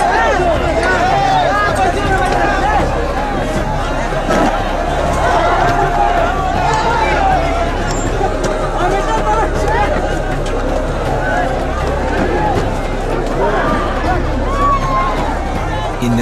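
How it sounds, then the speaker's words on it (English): A large, agitated outdoor crowd breaks down a fence and surges toward a flag, a continuous loud roar of shouting voices and running bodies with heavy low rumble throughout. "The crowd on the outside have started to break down the fence and are heading straight for the flag."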